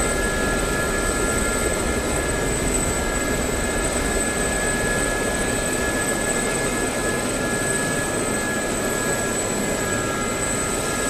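Continuous whine and roar of an SA-342 Gazelle helicopter's turbine engine in the DCS flight simulator, loud and steady with sustained high-pitched tonal lines over broadband rotor and engine noise, no talking.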